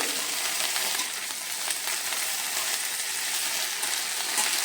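Okra fries on low heat in a pan with cumin and ajwain, giving a continuous close hiss and fine crackle that stays even throughout, with no voices.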